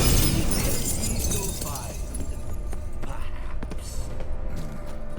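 Glass shatters in a video game as a mirror breaks, a loud crash with scattered tinkling fragments near the start, followed by footsteps and brief speech.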